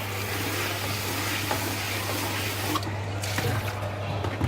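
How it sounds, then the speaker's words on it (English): Yogurt machine bucket rinsed under a running tap in a sink, a steady close rush of water with splashes and handling knocks, over a low electrical hum. "Wash the bucket."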